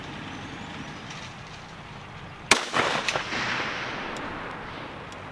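A single loud Howa 1500 rifle shot fired outdoors toward a 500-yard target, a sharp crack followed by a rolling echo that fades over the next couple of seconds against quiet background noise.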